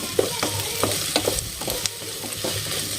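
Okra frying in oil is stirred in a pan, a continuous close sizzle broken by repeated scraping strokes of the spoon, with no talking.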